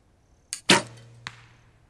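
A recurve bow fitted with Win&Win NS-XP foam limbs is shot: a sharp release snap, a low thrum of the string, then a dull arrow impact, close and otherwise quiet.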